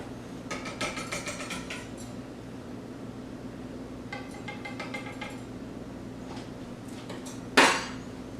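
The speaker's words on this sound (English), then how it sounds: "you're going to mix in your butter" Mixing butter into cookie dough ingredients in a bowl, with scattered clinks and scraping of a utensil against the bowl and one sharper knock near the end, no talking.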